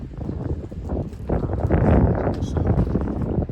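Gusty wind on Holyhead breakwater buffets the microphone in uneven rushes that strengthen partway through.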